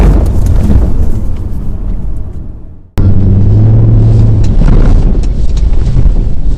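An Audi RS3 powers out of a corner, the engine droning loud and close under wind buffeting, with a brief cut to silence before the throttle comes back on and the revs rise again.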